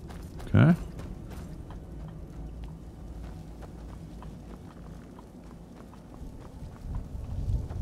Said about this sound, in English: See this horse.